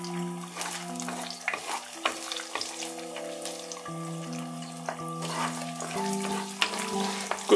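Eggs frying in a Chinese wok are stirred repeatedly, giving soft sizzling broken by irregular spatula scrapes and knocks against the metal. A few faint tonal sounds sit in the background.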